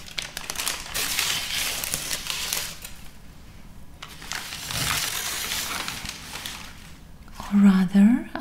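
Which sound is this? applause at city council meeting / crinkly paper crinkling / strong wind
crinkly paper crinkling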